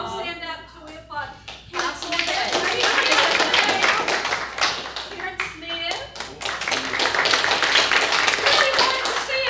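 An audience at a county health and human services board meeting claps, and a dense, steady applause fills the room for several seconds. Talk and brief voices are audible at the start and again midway.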